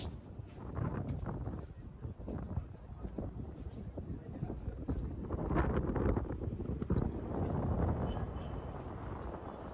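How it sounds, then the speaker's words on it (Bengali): Wind gusts at the top of Lotus Tower in Colombo, about 31 floors up, buffeting the microphone in a steady, close, rumbling roar that swells and eases. "খুব সুন্দর বাতাস।"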